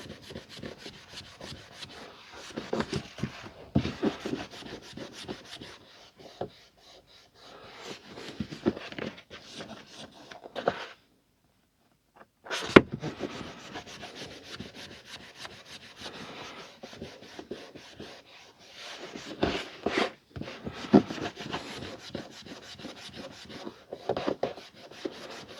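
Items from a vintage Penguin collection are polished by hand, giving close, busy rubbing and scrubbing strokes in uneven bursts with a short silent pause partway through.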